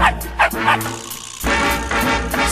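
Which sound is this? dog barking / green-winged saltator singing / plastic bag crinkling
dog barking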